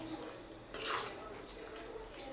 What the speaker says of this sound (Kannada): ಸೊ ನೋಡ್ಬೋದು ಇವಾಗ ಮಿಕ್ಸ್ ಕೊಡ್ತಾ ಇದ್ದೀನಿ ಚೆನ್ನಾಗಿ